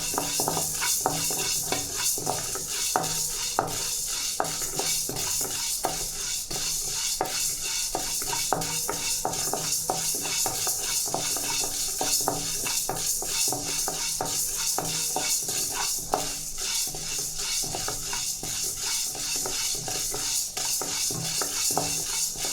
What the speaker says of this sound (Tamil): உளுத்தம்பருப்பு நல்லா வரப்பட்டுச்சுங்க.